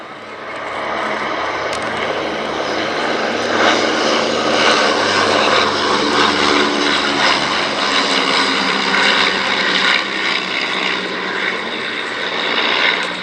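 A de Havilland Dragon Six biplane's engines drone loudly and steadily as the aircraft flies past at an Edwardian pageant airshow, with a sustained propeller roar that swells and holds close by.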